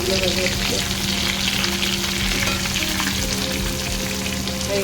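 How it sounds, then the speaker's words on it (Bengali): Prawns frying in hot oil, with a loud, dense, continuous sizzle and crackle close up and a steady hum underneath, uninterrupted and without speech. "মাছগুলো ভাজা হচ্ছে"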